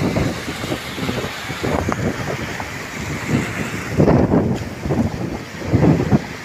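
Strong monsoon wind buffets the microphone over sea waves, a continuous loud roar with surging gusts and crashing surf that swells louder toward the end.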